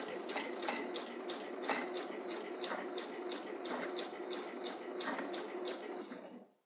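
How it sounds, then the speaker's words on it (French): Thread spools unwinding on a sewing machine stitching a t-shirt hem with a twin needle, a continuous fast ticking, whirring mechanical rattle that runs steadily throughout and fades at the end, with no talking. "le bruit, c'est les bobines qui se déroulent au fur et à mesure de la couture"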